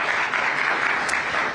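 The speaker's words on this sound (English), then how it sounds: "Big round of applause, please." Sustained audience applause at a business conclave, a loud, dense and even roar of many hands clapping throughout, with no voices over it.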